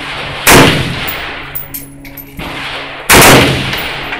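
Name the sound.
AK-47 rifle shots fired at a shooting range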